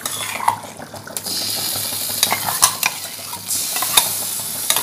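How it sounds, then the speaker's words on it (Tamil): Ground dates being stirred into a pistachio mixture in a pan, a spoon scraping and clinking against the metal in steady irregular strokes, close and fairly loud, with a light sizzle underneath. "அந்த டேட்ஸையும் இதில் கொட்டி கிண்டலாம்."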